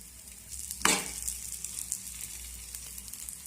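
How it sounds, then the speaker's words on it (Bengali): A breakfast snack brushed with a little oil sizzles in a pan as it is flipped to fry the other side. A sharp burst of sizzling gives way to a steady, crackling fry with no talking. "এটাকে আমি অন্য পাশটা ভাজার জন্য এবার উল্টে দেব"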